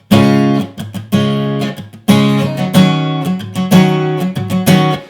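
Guitar chords strummed repeatedly, each ringing out and then cut short as the fretting hand eases off, in a steady on-off rhythm with no voices.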